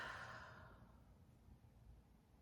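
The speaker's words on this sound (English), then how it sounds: "and a slow breath out." A slow exhale during a guided breathing meditation, a soft breathy rush that is strongest at the start and fades over a couple of seconds into quiet low rumble.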